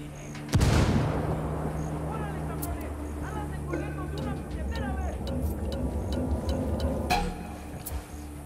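A frag grenade going off in Ghost Recon, with one sharp loud blast near the start followed by a rumbling decay, and someone talking over the following battlefield ambience with scattered distant shots.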